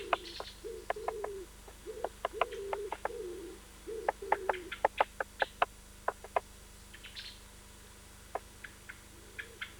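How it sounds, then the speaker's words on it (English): A great spotted woodpecker hammers a nut wedged into the cleft of a rotting log, giving sharp, irregular bursts of close taps with short pauses, over a soft, low cooing in the background. "the bird can then begin to pound away with its powerful beak"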